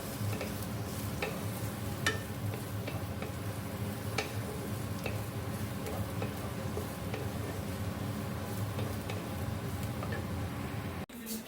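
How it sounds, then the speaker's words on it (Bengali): Potatoes fry in a pan at breakfast with a steady, moderate sizzle and occasional light ticks from stirring, cutting off abruptly near the end. "আলু ভাজা করছি"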